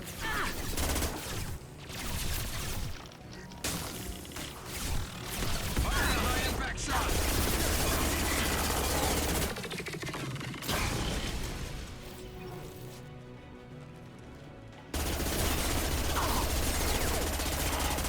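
Mass Effect 2 combat with bursts of rapid gunfire and impacts, dense and loud, broken by brief lulls, with game voices calling out amid the shooting.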